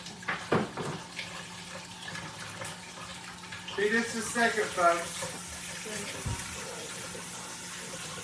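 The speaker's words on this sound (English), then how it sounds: "It takes forever to get just a little hot water going." Tap water runs steadily while waiting for hot water to come through in a home kitchen, a soft continuous wash under occasional nearby speech and a few clatters.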